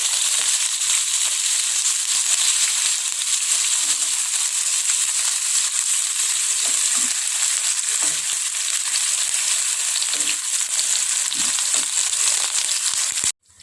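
Tofu frying in hot vegetable oil in a wok gives a steady, dense sizzle that holds evenly close by, with a few soft clinks and stirring knocks scattered through it, then cuts off abruptly at the end.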